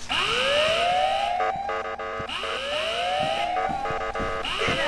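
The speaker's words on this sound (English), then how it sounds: "Sound the alarm!" A loud, continuous rising-and-falling alarm siren in the video game Ice Scream 8, wailing in repeated upward sweeps for the whole stretch, with no talk over it.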